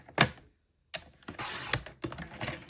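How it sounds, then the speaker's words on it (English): A paper trimmer's scoring blade scores card stock, and the trimmer then cuts it. Close, dry rasping strokes come in bursts, with a sharp snap early on and a pause between passes. No one speaks. "run the scoring blade and then turn it and cut it at 5 1/2"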